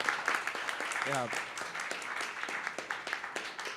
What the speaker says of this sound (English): I just wanted to ask everyone to join me again for one more round of applause